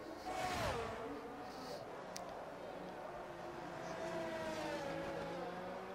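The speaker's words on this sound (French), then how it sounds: "On a une Ferrari qui sort en même temps." Ferrari race car engine in a racing video game, a sustained revving drone with a pitch that rises then falls and shifts, steady and fairly loud throughout with no talk.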